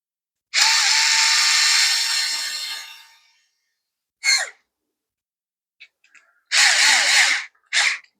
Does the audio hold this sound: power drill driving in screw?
yes